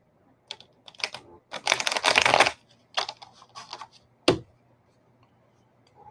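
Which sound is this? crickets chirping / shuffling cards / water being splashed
shuffling cards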